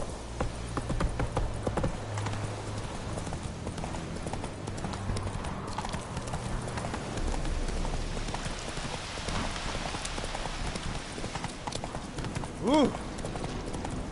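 Roach the horse trots in the video game Witcher 3, a steady rhythmic clip-clop of hooves over falling rain, with a brief exclamation from a man near the end.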